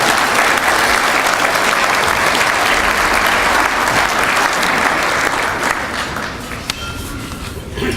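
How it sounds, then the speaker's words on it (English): Sustained applause from an awards-ceremony audience at an agricultural association's annual general meeting, honouring a lifetime achievement recipient; dense steady clapping throughout that thins slightly near the end. "Let's give a big round of applause to John Kinghorn."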